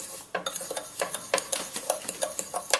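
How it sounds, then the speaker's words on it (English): Fork mixing sugar and water in a bowl, quick scraping and clinking strokes against the dish in an irregular rhythm, close and fairly quiet with no talking. "get a fork and just mix it all together."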